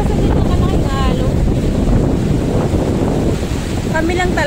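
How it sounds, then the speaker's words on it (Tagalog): Big sea waves slap around a small fishing boat off Calatagan while strong wind buffets the microphone, a loud continuous rush of water and gusts with faint voices underneath. "Ang laki ng alon, no?"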